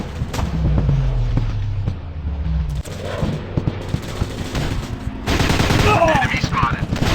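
Rapid bursts of gunfire and explosions from a commando shooting video game, loud and continuous, with game voices shouting over the shots.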